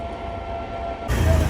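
A low, steady rumble of a train rolling past nearby, growing slightly louder toward the end.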